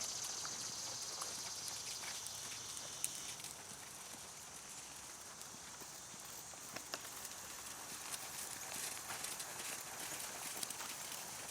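A horse cantering in a riding arena during a group lesson: faint, distant hoofbeats in a steady rhythm beneath a constant wash of broadband background noise.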